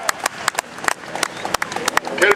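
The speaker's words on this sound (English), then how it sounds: "A round of applause for the first combine to hit the headland" An outdoor crowd at a charity combine-harvesting world-record event in a farm field claps in a round of applause. The claps are loose and uneven, mixed with voices.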